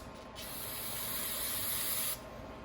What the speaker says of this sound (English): I'm going to spray the parts cleaner on the rag,